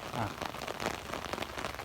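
Heavy rain pouring at a dam dredging worksite, a dense hissing patter on surfaces with a voice speaking over it through the short stretch.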